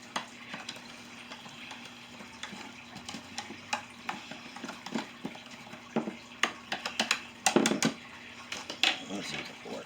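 Seasonings are being mixed in a bowl for smothered chicken, with quiet scraping and tapping clinks that come faster and louder toward the end.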